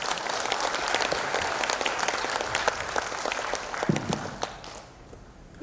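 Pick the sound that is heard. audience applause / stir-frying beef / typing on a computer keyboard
audience applause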